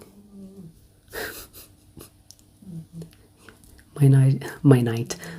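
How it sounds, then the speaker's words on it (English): A cat snores with wheezy, rasping breaths in short bursts, recorded close up, with louder voice-like sounds near the end. "My cat is snoring."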